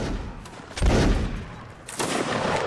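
Musket volleys in Mount & Blade: Napoleonic Wars, two heavy crackling bursts of massed gunfire about a second apart over a steady background of distant shots.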